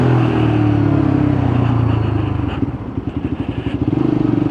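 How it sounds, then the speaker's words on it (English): Lexmoto motorcycle engine blipped during downshifts, with a steady low drone giving way to rapid pulsing revs and a clattering rhythm, close and fairly loud with no talk. "Always blip coming down because it helps the gearbox."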